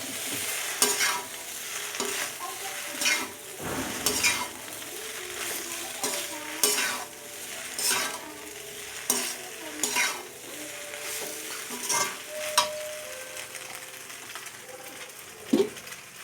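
Egg pasta with boiled pasta and vegetables is stirred in a sizzling pan, a spatula scraping and tapping in irregular strokes over a steady fry for about sixteen seconds.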